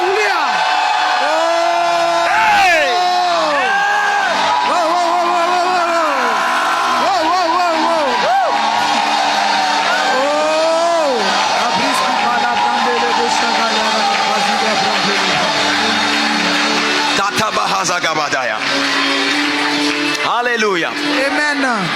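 A church congregation lets out sustained shouts and whoops of joy, loud and reverberant, with voices rising and falling in long arcs over a continuous dense crowd roar.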